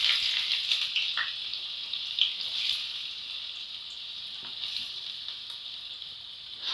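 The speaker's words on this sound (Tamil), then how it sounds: "எண்ணெய் நல்லா சூடாயிடுச்சு. வெங்காயம் சேர்த்துப்போம்." Finely chopped onions frying in hot oil on a stovetop for chicken kurma, a steady, soft hiss and sizzle with faint crackles throughout and no talking.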